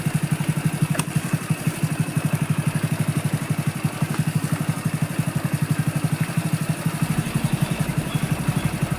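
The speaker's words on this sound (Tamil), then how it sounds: "பாருங்கள், பைக்கு பாருங்கள், கிளச்சி மட்டும் தான் பிடிச்சிட்ருக்கேன். இறக்கத்தில் பாருங்கள் எவ்வளோ ஸ்பீடாக போகுது பாருங்கள்." Motorcycle rolling fast downhill on a dirt track in South Goa with the clutch held in, a close, steady low rumble with a rapid even pulsing throb and loose clatter throughout.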